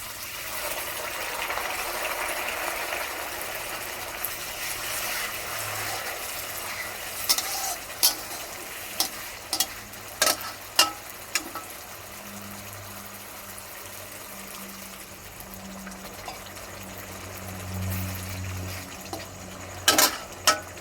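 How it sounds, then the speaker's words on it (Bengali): Hot water pours from a kettle into a cooking pan with curry and bora, a steady watery gush running for long stretches, broken by a few sharp clinks and knocks. It sounds close and moderately loud. "তার জন্য গরম জল করেছি, গরম জল দিয়ে দেব।"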